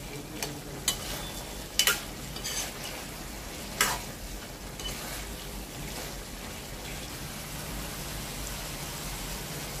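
A vegetarian chachchari of vegetable scraps simmers in a pan as its water cooks off, giving a soft, continuous sizzle with a few faint clicks from a utensil and no talk.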